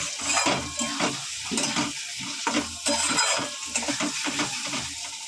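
Rui-style fish curry masala being sautéed in a pan gives a close, busy sizzle broken by rhythmic scraping and clanking of a spatula against the metal, steady strokes repeating throughout.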